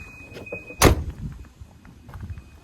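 A car door, on a newly bought station wagon, slams shut once, a single loud sharp thunk standing out against a quiet background with a faint electronic chime tone running beforehand.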